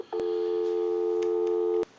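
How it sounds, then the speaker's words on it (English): A steady telephone dial tone on a Kellogg wood wall crank telephone converted for modern lines, a clean continuous hum that starts abruptly, holds for under two seconds and stops with a click. "give you some dial tone,"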